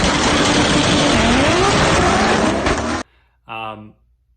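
A Toyota Supra drag car launching in eliminations roars hard at full throttle, its engine pitch sweeping upward for about three seconds before cutting off abruptly, followed by a brief tonal burst in near silence.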